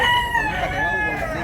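A rooster crows at a bustling gamefowl market in Tabunok, Cebu, a single drawn-out, fairly close call over background chatter.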